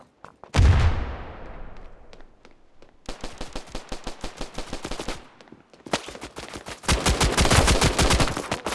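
Gunfire in the mobile shooter game Standoff 2: a loud opening shot, then several long bursts of rapid automatic fire separated by short pauses, dense and close, with no talk over it.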